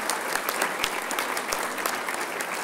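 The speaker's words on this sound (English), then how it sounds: "Kathy, that deserves a round of applause." Audience applause at a Lions association gathering, a dense steady wash of many hands clapping together at a fairly close, even level with no one talking over it.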